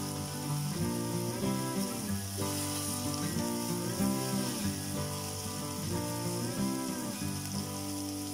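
Tomatoes sizzle and crackle steadily in a pan while cooking for masala veggie macaroni, a continuous close frying hiss with a faint rhythmic stirring pattern.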